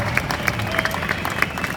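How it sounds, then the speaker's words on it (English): Crowd applause at an outdoor Abolish ICE rally, steady dense clapping with scattered cheers filling the whole short stretch at moderate loudness. "So big round of applause to Jill."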